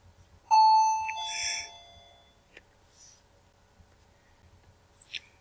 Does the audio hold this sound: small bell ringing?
yes